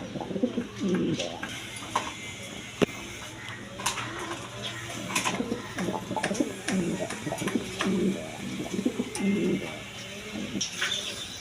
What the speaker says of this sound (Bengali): দর্শকবৃন্দ এখানে এক পেয়ার রেসার কবুতর আছে মাক্সি রেশার কবুতর